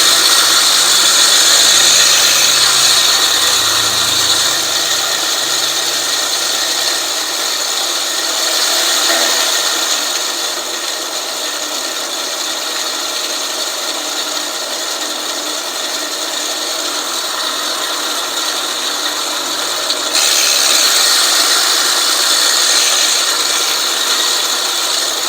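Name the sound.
reel mower backlapping with compound, Honda GX120 engine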